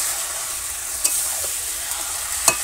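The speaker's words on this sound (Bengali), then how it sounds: "মাংসটা দিয়ে দিয়েছি, এখন এটা আস্তে আস্তে করে কষিয়ে নেব।" Chicken pieces sautéed and stirred in a pan in a village kitchen on a rainy day, a steady crackling sizzle broken by a few sharp clicks of the stirring spoon.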